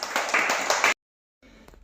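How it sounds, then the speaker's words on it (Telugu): Children clapping together in a primary school classroom, a dense burst of close applause lasting about a second and then stopping abruptly, followed by quiet room sound. "క్లాప్స్."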